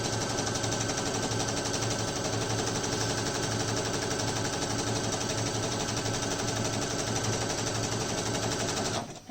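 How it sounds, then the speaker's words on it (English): A sewing machine back stitching a fabric face mask runs in one fast, continuous rattling burst, loud and close, stopping abruptly at the very end. "I'm going to do a little bit of a back stitch"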